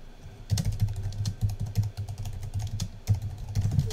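Typing on a computer keyboard: close, irregular clicks of keystrokes tapped in quick clusters with short pauses between them, quiet and alone with no voice.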